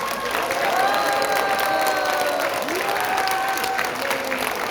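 A meeting audience at a Korean right-wing YouTubers' union gathering claps in approval, a dense, steady burst of applause close by, with faint voices and cheers mixed in.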